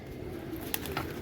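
Domestic pigeons kept at home coo low and steadily, a soft, continuous murmur from the flock with one brief brighter call partway through, heard alone without talk.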